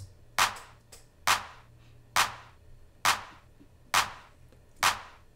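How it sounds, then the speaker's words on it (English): Sampled offbeat claps land on beats 2 and 4 in a pop-rock build-up, six sharp evenly spaced hits over a soft low pulse, with no voices. "These offbeat claps on 2 and 4"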